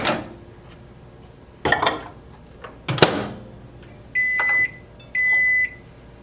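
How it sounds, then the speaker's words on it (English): A few clunks and a door thump, then two steady electronic beeps close by, as a microwave is set and started in a quiet kitchen. "We're just going to do this quickly in the microwave."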